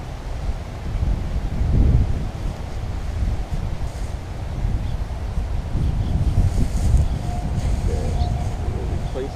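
Gusty wind buffets the microphone at an outdoor model rocket launch site, a loud, continuous low rumble that swells and eases for the whole stretch with no voices.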